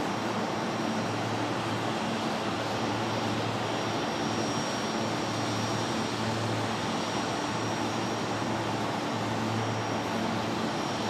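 Steady, continuous broadband roar of an Emirates jet airliner passing overhead near Brisbane Airport at sunset, a sustained engine rumble and hiss that holds at an even loudness throughout with no talking.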